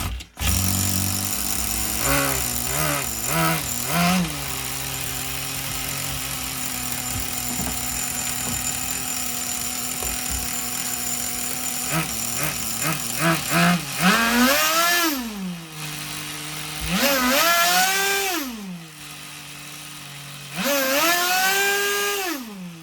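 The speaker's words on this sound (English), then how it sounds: "Now the reason I'm revving it all the way up is because I don't want any sand sitting in the crankcase." A Tamiya TGS-R nitro RC car engine revving hard, rising and falling whining bursts repeated several times with brief idle gaps, loud and close.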